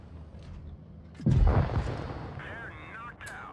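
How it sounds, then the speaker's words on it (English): A tank cannon fires once with a deep, heavy boom in the World of Tanks Blitz video game, followed by a rumbling decay and some softer game effects trailing after. "Finally a shot from that Panzer."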